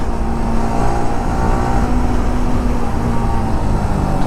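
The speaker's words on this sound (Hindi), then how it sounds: "ये इनोवा, ये फॉर्च्यूनर, आगे ट्रैक्टर।" Traffic on a highway rushes past a motorcycle rider on a long journey, with passing cars, SUVs and a tractor. A continuous loud engine and road roar with a low steady hum and no clear gaps.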